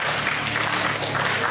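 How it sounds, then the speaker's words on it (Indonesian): Brief, continuous burst of crowd applause at a journalism workshop, a dense patter of many hands clapping at moderate loudness for the whole moment. "Tepuk tangan untuk Kak Soleh."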